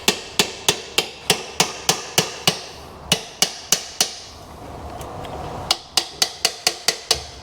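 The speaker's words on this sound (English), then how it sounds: "We ended up just whacking it with the hammer" Hammer repeatedly whacking a stuck part off a Range Rover Classic, sharp metallic strikes in a fast even rhythm, a brief pause midway, then another rapid burst of blows, loud and close.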